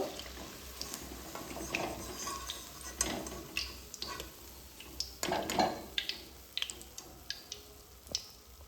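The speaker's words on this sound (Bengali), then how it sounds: "এবার তেল ঝরিয়ে" Fried pointed gourd is lifted out of oil in a pan and drained, heard as faint oil bubbling under scattered close clinks and scrapes of a utensil against metal.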